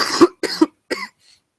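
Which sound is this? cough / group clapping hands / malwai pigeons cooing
cough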